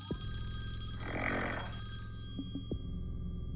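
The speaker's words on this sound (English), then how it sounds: "The telephone buzzes once more." A telephone buzzes in a dark, tense scene, a faint electronic ring repeating once more beneath a low droning background hum, fairly quiet and without speech.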